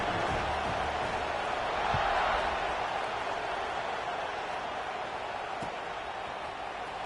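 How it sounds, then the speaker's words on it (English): Stadium crowd in the NCAA 26 college football video game, Wake Forest vs NC State, buzzing right after a score: a steady, dense roar of many voices that holds at one level for the whole stretch, with no clear cheers or claps standing out. "this crowd is buzzing after that last score"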